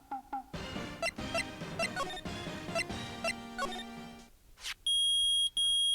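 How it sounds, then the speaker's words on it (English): Electronic beeping from metal detectors in the Phoenix Wright: Ace Attorney video game, a run of short bright tones in a quick stuttering pattern, ending in two long, loud piercing beeps. "Nick, it's beeping. Those metal detectors found something."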